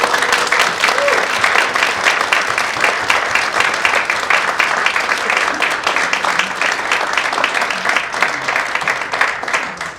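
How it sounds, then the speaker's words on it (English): Graduates at an Ohio University Eastern honors and recognition convocation receive sustained loud applause from the audience, dense clapping filling the hall at an even level throughout. "let's give them a big round of applause."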